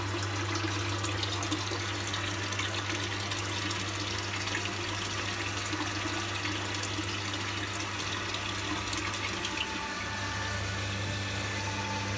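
A water pump system that has sat unused starts slowly with air in the lines, a steady low motor hum with a strong tonal drone beneath continuous rushing, gurgling water, loud and close, with no talking.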